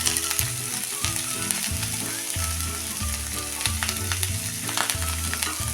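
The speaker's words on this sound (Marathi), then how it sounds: "आता हे परतून झाल्यानंतर त्यामध्ये ह्या सगळ्या भाज्या टाकून घेऊया" Vegetables sizzle loudly in a hot pan for a fried rice dish, a dense continuous crackle and hiss close by, broken up by repeated rhythmic scraping and stirring strokes of a spatula against the pan.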